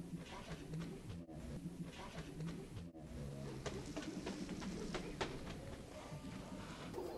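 Golden pigeons coo softly and continuously amid wing flutters and light scratching, with occasional faint voices in the background.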